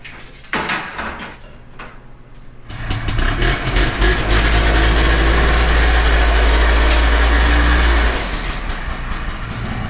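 Top Quad Trailblazer ATV engine idling close by. The sound starts softer, then swells after a few seconds into a loud, steady, deep rumble that holds before easing slightly near the end.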